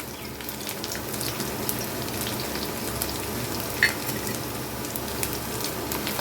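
Thinly sliced garlic sizzles in hot oil for a sour-sweet-spicy hog plum pickle, a steady, even frying hiss with a tiny sharp pop partway through.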